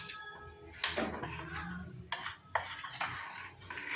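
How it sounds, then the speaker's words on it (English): Metal cake baking tins filled with red velvet batter are tapped on a hard surface to knock out air bubbles, giving several sharp metallic knocks and rattles at irregular intervals, close and fairly quiet. "this is good to tap my pans to get rid of any air bubbles"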